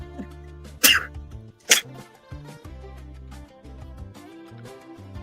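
Two sharp, loud sneezes burst out about a second apart, close to the microphone, over steady background music.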